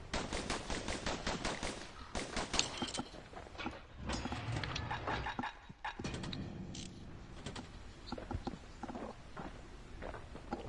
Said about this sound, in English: Oh, I do have those dueling pistols.